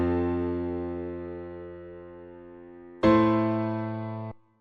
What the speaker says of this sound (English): you can hear the piano is a lot more full-bodied